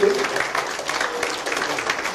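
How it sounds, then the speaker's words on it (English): A church congregation claps together in a dense, steady burst of applause filling the room, with a voice faintly heard at the start. "Give the Lord a big hand clap if you believe it."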